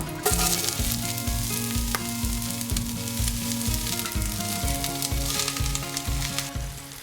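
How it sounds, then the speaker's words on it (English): Vegetables saute in a hot pan for a casserole en cocotte with white beans, giving a loud, steady sizzle throughout, with faint stirring scrapes and no talk. "all this is going to go into the pan and saute until golden brown"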